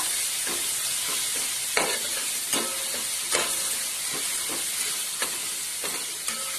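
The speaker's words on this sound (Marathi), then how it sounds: "थोडं 2 मिनिटं फ्राय करून घ्यायचा." Spice masala with no onion frying in a pan for batata bhaji, a steady broadband sizzle with repeated scraping strokes of a spoon as it is stirred, close and continuous.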